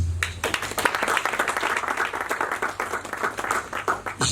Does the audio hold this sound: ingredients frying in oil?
no